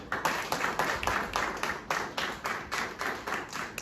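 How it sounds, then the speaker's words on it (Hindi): Audience members at a business conference clap loudly for themselves in a fairly even, rhythmic pattern of distinct claps, moderately near and without overlapping talk. "एक बार खुद के लिए तालियां बजाइए जोरदार"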